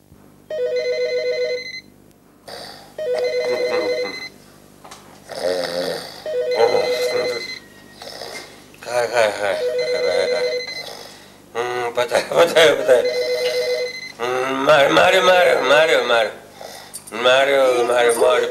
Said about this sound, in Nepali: उठा तिम्रो घन्टी बज्यो